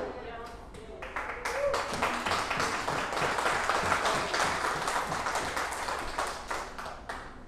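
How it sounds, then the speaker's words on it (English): An audience at a Texas independence (TEXIT) talk in Lindale applauding, a dense sustained burst of clapping from a crowd, loud and steady throughout with cheering voices mixed in. "I'm not sure whether you're applauding for the people or the power"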